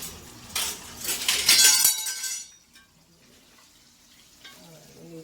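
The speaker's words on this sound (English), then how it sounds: "While that's frying, I'm going to cover that up." Loud crackling sizzle of chicken frying in hot oil for about two seconds, then it drops away to quiet clinks and faint kitchen sounds.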